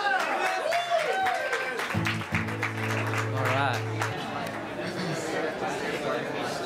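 Applause for a singer-songwriter at a live performance, a moderate mix of clapping and crowd chatter with a voice speaking over it and a guitar-like tone ringing briefly midway.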